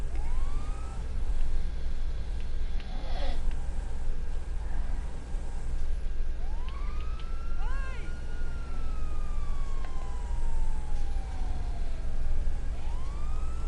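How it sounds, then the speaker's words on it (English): Fire truck sirens wail in GTA 5, rising and falling in long sweeping tones over a constant low engine rumble, with a horn-like blast partway through. "We are going to go ahead and shut those sirens off"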